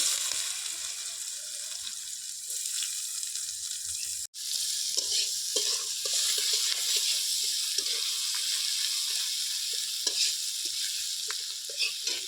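Steady sizzling of chopped onions, bay leaves and cumin frying in hot oil, close and continuous, with occasional stirring clinks and no talking.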